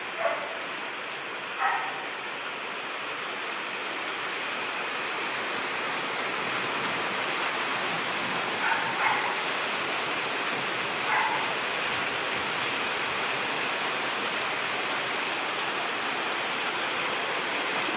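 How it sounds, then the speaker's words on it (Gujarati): Continuous steady rain pouring down in a village, a dense even hiss throughout, with a few faint distant barks early and midway. "કેટલો વરસાદ છે અમારા ગામમાં આજે ફરી પાછો વરસાદ આવી ગયો છે"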